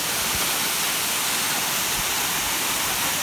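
A large waterfall roars as a dense, unbroken rush of falling water, loud and close, with no voices over it.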